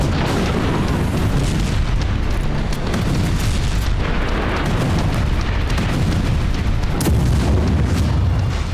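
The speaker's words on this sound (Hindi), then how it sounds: "कहीं आसमान से एयर स्ट्राइक तो कहीं जमीन पर आर पार की बारूदी फाइट" Air strikes and ground fighting in a war zone, a dense, continuous barrage of heavy booms and blasts overlapping without pause, loud and rumbling throughout.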